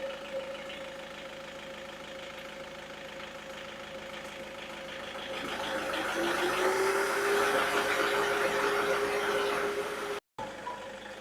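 A 2011 Toyota Innova engine idles steadily nearby, its hum rising in intensity partway through as a fan or compressor load kicks in, with a brief cut near the end.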